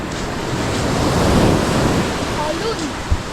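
Waves washing against a riverbank in the Philippines, a steady broadband rush of surf with wind buffeting the microphone, continuous and fairly loud with a small thump near the end.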